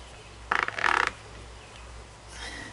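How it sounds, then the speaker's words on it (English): A pulley comes loose from an engine's harmonic balancer with a short run of quick metallic clicks and ratcheting ticks, followed by quiet, then a faint scrape. No one speaks. "Did you hear that pulley come off?"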